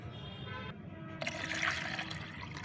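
Plain water poured into homemade plant fertilizer to dilute it, a steady splashing pour that swells midway and then eases, close by with no talking.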